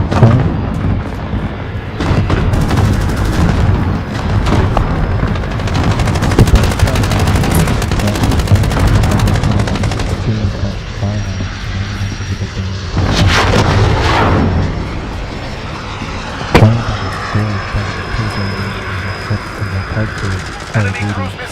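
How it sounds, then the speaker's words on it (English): An allied cluster strike in a war video game, with a dense barrage of loud booming blasts and rapid gunfire that keep rolling and overlapping, then a few sharp, isolated cracks near the end. Faint radio-style voices sit under the noise. "Allied cluster strike inbound."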